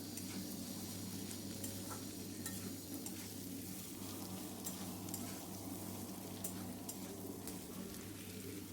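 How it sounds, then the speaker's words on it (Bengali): Chopped onions fry in a little oil with cardamom in a pan for chicken masala kasha, a faint steady sizzle with occasional stirring scrapes over a low hum. "পেঁয়াজ কুচিগুলো আমি ভালোভাবে ভেজে নিচ্ছি।"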